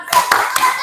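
Three sharp hand claps in quick rhythmic succession, close and loud, over a background of children's voices in a classroom.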